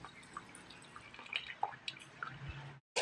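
Soft, irregular drips of thick kutsinta rice-cake batter falling through a strainer in quick succession, close by, with faint wet squishing and no talking.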